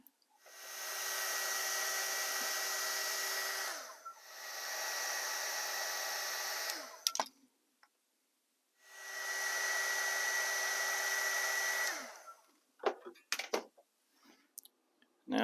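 A heat gun blows hot air onto heat shrink tubing fitted over brass wire on a model mine. The steady whooshing hiss runs in three long bursts with short gaps, followed by a few small clicks and handling noises.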